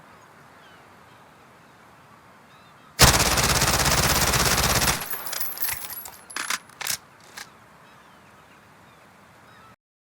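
Automatic weapon fire in the video game Call of Duty: a loud sustained two-second burst, then scattered shorter shots and clicks, with quiet background before and after.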